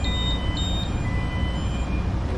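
A ship's engine room alarm sounds in PTH (shaft generator as motor) mode as a faint, steady repeating beep over a loud, constant machinery drone.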